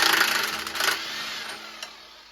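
A power tool fitted with a 24 mm socket spins in reverse on a 1988 Suzuki-powered Toro lawn mower, giving a brief high whirring burst that fades over about a second, followed by a small click.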